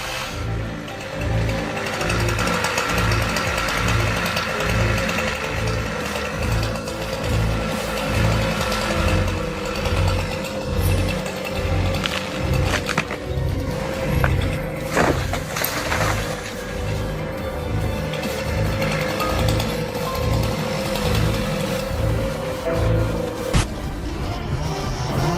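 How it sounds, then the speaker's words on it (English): A chainsaw cuts around the trunk of a towering tree in an open field, its engine droning steadily and loudly with a pulsing rhythm throughout. "One of them expertly wields a chainsaw, cutting strategically around the trunk"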